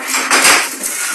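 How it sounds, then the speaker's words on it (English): Boiled rice tipped from a container into a pan of onions, a short clattering scrape of utensil against metal cookware with a brief louder burst in the middle, close and alone. "You can transfer the boiled rice, which was cooked earlier, into a pan to add to those onions."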